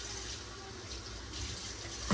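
Cold tap water running steadily while chicken is rinsed at a kitchen sink, a continuous close splashing stream, swelling slightly near the end, with no talk.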